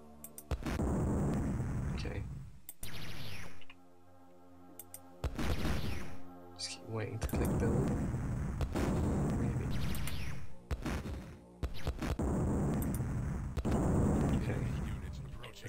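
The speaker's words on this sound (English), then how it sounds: "lots of screen shaking and explosion things" Explosions from the Amiga strategy game Dune II, a series of heavy booming bursts with a crackling rumble, loud and repeated in clusters with brief gaps between them and no speech over them.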